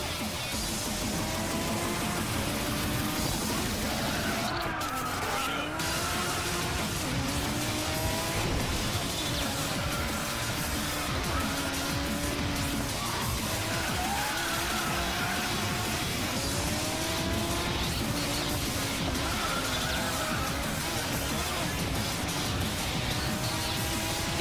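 Racing cars in the mobile game Racing Master, including a red RS7, engines whining up and down through shifts, with brief tire squeals and passing cars, a steady close roar with no voices.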